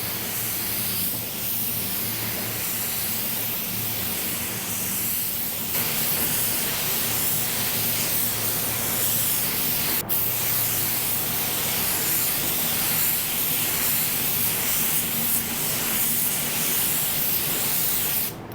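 A low-cost hobbyist spray gun lays base coat paint over a car repair area and tailgate, giving a loud, close, continuous hiss that runs almost unbroken for about eighteen seconds.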